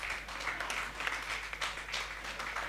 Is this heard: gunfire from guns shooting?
no